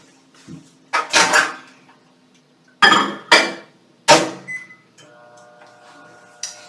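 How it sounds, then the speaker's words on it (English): A few sharp clatters of bowls and dishes, then a microwave oven starts up on high with a steady electric hum and whir, melting something in a microwave-safe bowl. "put it back in the microwave, do it for 30 more seconds on high"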